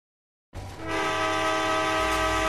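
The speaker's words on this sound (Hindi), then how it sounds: "सबसे पहले हम जरा हॉर्न दबा देते हैं।" A loud, sustained train horn blares after a brief silence in the game Indian Bikes Driving 3D, holding steady with a rumbling engine underneath, synthetic and clean like a game sound effect.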